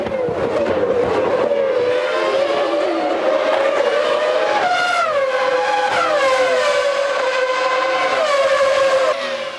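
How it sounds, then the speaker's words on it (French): Formula 1 McLaren race cars from the 1996 season scream as they accelerate hard at a restart after the safety car, high-pitched engine whine rising and shifting through gears, loud and continuous with other cars close behind. "La voiture de sécurité rentre au stand. C'est un nouveau départ. Les deux McLaren accélèrent en tête."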